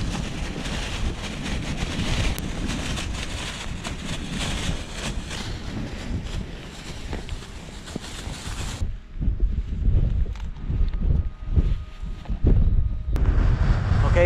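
Strong wind batters a mountain wild camp in the Silvermine Mountains, roaring and buffeting loudly against the microphone in gusts. It then drops to a quieter stretch broken by irregular low thumps and rustles.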